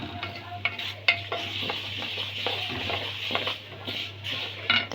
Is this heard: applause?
no